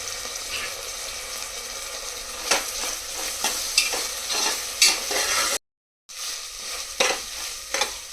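Onions sizzle in a pan with ginger garlic paste for chicken biryani, a steady frying hiss broken by occasional stirring scrapes and clinks, with a short silent gap partway through.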